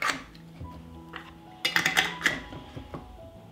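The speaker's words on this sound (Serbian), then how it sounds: "i tegle zatvaram sa čistim i novim poklopcima" New metal lids screwed onto glass jars, a few metallic clinks and scrapes, faint at first, then a louder cluster of clattering taps.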